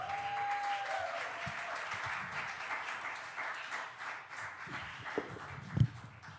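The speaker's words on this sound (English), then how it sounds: "Let's give Denzel another round of applause" Live show audience applauding a performer, a steady wash of clapping at moderate distance that thins out toward the end, with a few louder thumps close by.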